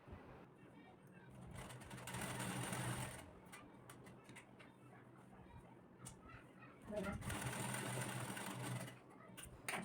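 An electric sewing machine stitches the shoulder seam of a blouse in two loud, fast runs, with quieter handling and a soft voice in the pause between them.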